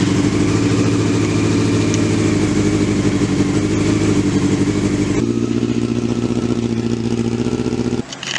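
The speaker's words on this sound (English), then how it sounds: "we can try and start the new and improved CBR600 F2" Honda CBR600 F2 motorcycle engine running close and loud, a steady rumbling idle with a pulsing beat that shifts pitch slightly partway through and cuts off briefly at the end.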